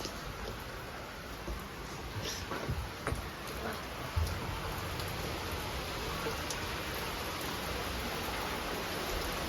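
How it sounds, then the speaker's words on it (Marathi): Heavy rain falls outside a village home as a steady, dense hiss with a few scattered drips and ticks, continuous throughout with no talking. "बाहेर पाऊस खूप चालू आहे"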